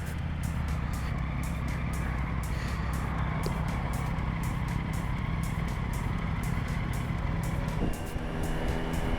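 A Triumph Tiger 900 GT Pro motorcycle rides on the road, its engine droning steadily under strong wind noise that fills the whole stretch, with no speech.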